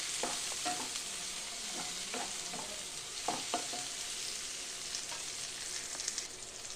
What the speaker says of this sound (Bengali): টমেটোটাও পেঁয়াজের সাথে একটু ভালো করে ভাজা করে নেব।